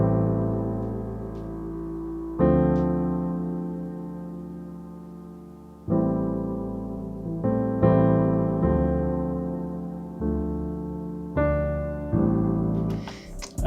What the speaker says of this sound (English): I started with a simple piano, and it sounds like this